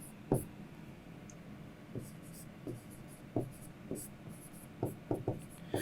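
Writing on a board during a maths lesson, a series of soft, quick scratching and tapping strokes spaced irregularly, faint and close, with no speech over them.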